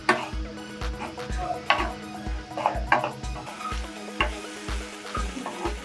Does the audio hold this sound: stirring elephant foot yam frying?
yes